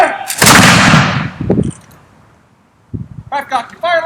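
A volley of Brown Bess flintlock Land Pattern muskets fires at a historical demonstration in Mackinaw City, Michigan: one loud, ragged crash that rolls away into silence, followed by commands shouted nearby.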